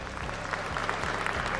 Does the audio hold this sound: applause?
yes